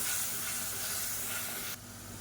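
Ginger garlic paste sautéing in a pan for chicken biryani, a steady close sizzle and steamy hiss that drops abruptly in level near the end, with no talking.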